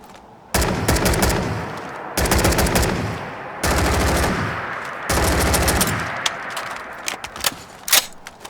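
A modded rifle in Fallout 4 fires in rapid automatic bursts, loud and close, with several sustained strings of shots followed by scattered single cracks and clicks.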